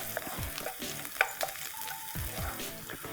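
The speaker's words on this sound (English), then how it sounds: "Let's stir this till the raw flavor of the ginger and garlic kind of goes away." Ginger and garlic sizzle in a pan while being stirred, with a soft steady frying hiss and repeated light scrapes of the spoon close by, quiet and without speech.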